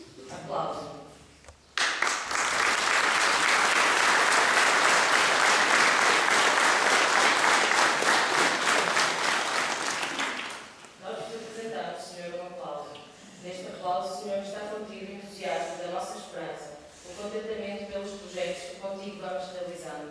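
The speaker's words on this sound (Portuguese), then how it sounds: "Aplausos." A congregation applauds during a Mother's Day Mass in a church in Roriz, a loud sustained burst of clapping lasting several seconds before it fades and a voice begins speaking.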